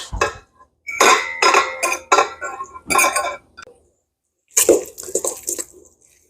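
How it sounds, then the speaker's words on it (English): A brisket pizza crust mixture is stirred in a bowl, with squishy, wet mashing and clinking utensil strokes in several close bursts separated by short silent pauses. "And we mix."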